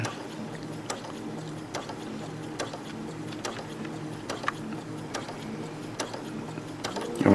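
Sewing machine stitching across a fabric seam while piecing a Dutchman's Puzzle quilt block, a steady mechanical whir with regular clicking ticks of the needle roughly every second, close and moderately quiet.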